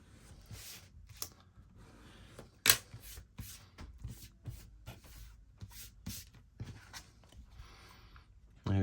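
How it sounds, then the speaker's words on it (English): Bone folder rubbed along the fold of a stamped new baby bear card, a series of quiet scraping strokes with small taps, close and faint, with one sharp click near the middle and a louder thump at the end. "I usually take my bone folder and just go along properly"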